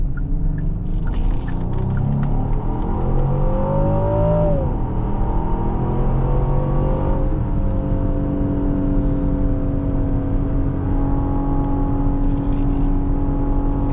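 A 2023 Genesis GV70 3.5T accelerates hard from inside the cabin, the engine note climbing steadily, then holding a gear at a sustained high drone with a faint whir.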